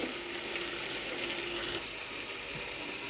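Water poured into a pan of fish curry (parshe fish) already cooking with mustard, turmeric, a little tomato and a pinch of sugar, giving a steady, close hiss and splash of liquid that lasts throughout.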